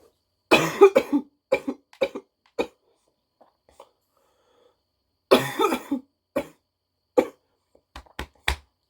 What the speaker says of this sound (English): Sorry, everyone got a cough.